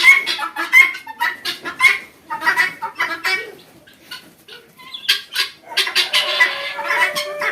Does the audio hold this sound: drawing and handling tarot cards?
no